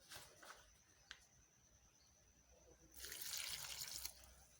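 Water pouring from a tap into a corn flour mixture for corn cake, a soft trickle at first, then a steady louder rush of running water for the last couple of seconds.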